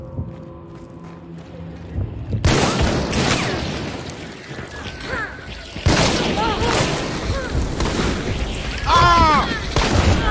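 Gunfire rings out in a first-person shooter game, several sharp, loud shots and booms scattered across the stretch with echoing tails, while players talk over them.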